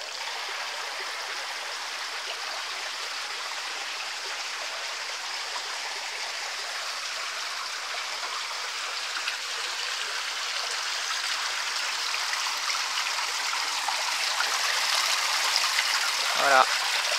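Closed-circuit garden pond waterfall cascading steadily, a continuous broadband rush of falling water that grows slightly louder toward the end, with a brief splash near the close.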